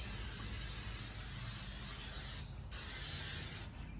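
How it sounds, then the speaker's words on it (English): Non-stick vegetable oil sprays onto a Masterbuilt Gravity Series 800 grill in a long, close, continuous hiss. It stops briefly, resumes in a second burst, then cuts off. "Just spray the vegetable oil, non-stick vegetable oil."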